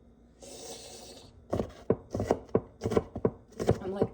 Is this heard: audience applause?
no